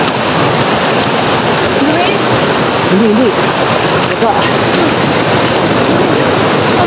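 Waterfall roaring steadily and loudly throughout, a continuous broadband rush with a person talking briefly over it.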